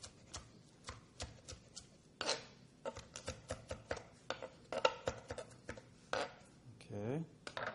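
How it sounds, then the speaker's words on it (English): Fresh mint being chopped roughly with a knife on a board, a run of quick irregular close thuds and taps, with a short clatter of utensils near the end. "we're going to take 2 tablespoons of chopped mint, and I'm just going to chop it up roughly"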